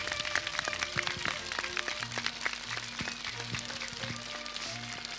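Scattered audience applause for Marioara Murărescu at an evening event in Gura Humorului, a thin, distant patter of claps continuing steadily under background music and murmur.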